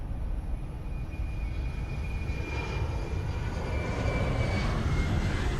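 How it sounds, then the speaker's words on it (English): An airplane flying past in a flight simulator, a steady broadband engine roar that swells slightly toward the end. "That's a plane flying by, not the APU."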